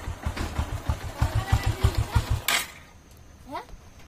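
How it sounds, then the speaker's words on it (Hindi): A Bajaj Avenger motorcycle with a blown fuse and short-circuit trouble is kick-started, its engine chugging in a steady low rhythmic idle for a couple of seconds before cutting out, leaving a quieter tail with a brief sound near the end. "जैसे ही मैं बाइक को ऑन करूंगा, पैर से मारूंगा"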